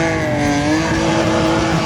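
Cars drifting around a hot track at a car meet, a loud sustained tire squeal blended with straining, high-revving engines, close and continuous.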